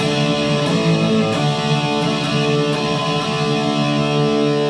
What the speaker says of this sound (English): Then we're going to go to a D5 to an A5